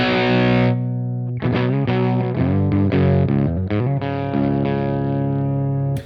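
An electric guitar runs through a Sonicake SHARK British high-gain distortion pedal with the gain turned fully down. A held chord rings out, then a short gap, then a quick run of picked chords and single notes, ending on a long sustained chord. Close and fairly loud, no talking.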